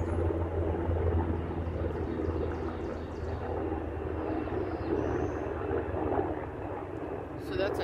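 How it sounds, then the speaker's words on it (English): A steady, rumbling helicopter drone with a low rhythmic thump, continuous and fairly close, while a person talks over it. "So that's a helicopter."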